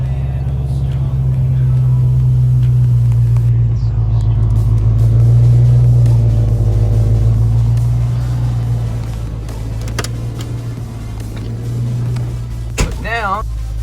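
A warmed-up Foxbody Ford Mustang with a Borla exhaust idles and revs from outside, giving a loud, deep, steady rumble that swells and then settles lower, with a short voice near the end.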